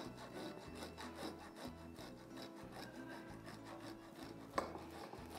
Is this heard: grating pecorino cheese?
yes